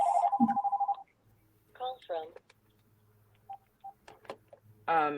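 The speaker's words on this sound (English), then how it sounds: "this phone never rings" A desk telephone rings twice in a workplace setting, a short bright electronic trill near the start and again at the end, with people talking in between.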